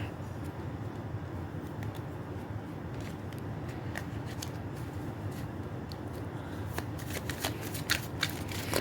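Tarot cards are shuffled continuously in a quiet room, with steady soft riffling and papery flutter and a few sharper card snaps near the end.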